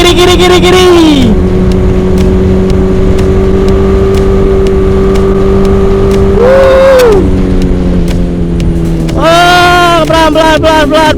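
Honda CBR150 motorcycle engine while riding: a loud, sustained tonal drone that climbs and falls with gear shifts, rising sharply at the start, near the middle and toward the end.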